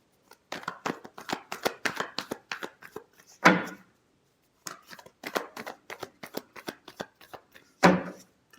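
Tarot cards are shuffled by hand, close and fairly quiet, in two bursts of rapid crisp riffling flicks, each ending with a louder slap as the deck is squared.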